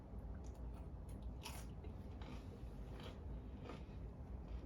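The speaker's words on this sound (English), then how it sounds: "The beans are crunchy." Close, quiet bites and chewing of crunchy green and yellow beans in a side dish, with several crisp crunches spread over a few seconds above a faint steady background hum.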